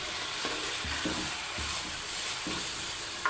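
Chicken and onions fry in a pan for biryani, a steady soft sizzle with a few stirring scrapes and thumps.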